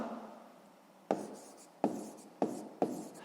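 Pen strokes scratch on paper while a math exercise is worked out, four short distinct writing scrapes after a quiet start, close and fairly soft.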